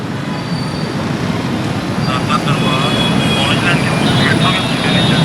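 A metro train rumbles over an elevated bridge near a station, a loud steady roar with squealing wheels and metallic whines rising midway, up close.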